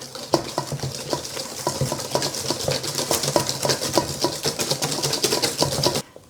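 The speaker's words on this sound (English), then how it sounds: "give it a good stir with the whisk" A whisk beats hot milk into eggs in a bowl to temper them for a trifle custard, making a fast, steady run of close, bright clinks and swishes that continues without talk.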